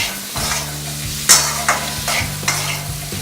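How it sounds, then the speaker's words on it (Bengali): Boiled potato being stirred with a spatula in a frying pan while making aloo poha: soft scraping strokes and a few sharper clinks over a steady low sizzle. "এবার এটা দিয়ে ভালো করে নাড়তে হবে।"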